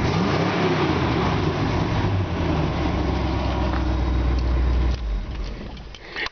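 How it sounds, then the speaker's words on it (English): A 1959 Chevrolet Apache pickup truck pulling at speed, its engine and exhaust giving a loud, steady rumbling drone that holds for several seconds before easing off as the throttle drops near the end. "Got a nice sounding exhaust."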